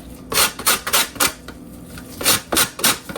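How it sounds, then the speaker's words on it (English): A lime being grated for zest, with short rhythmic rasping strokes in two bursts and a brief pause between them, close and clear. "we got a lime here. We're just gonna grate"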